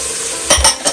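Brief sizzling and stirring sounds of spices frying in hot oil for chicken biryani, a few short bursts of crackling within a second, close and fairly loud.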